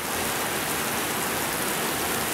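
Steady rain pours on roads in Alanya, Turkey, as a dense, unbroken hiss of falling water, loud and close throughout with no voices or other distinct sounds.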